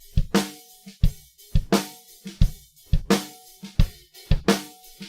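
A punchy drum loop of kick and snare hits run through a saturator plugin repeats in a steady groove with a thick, slightly gritty, saturated tone and no voices.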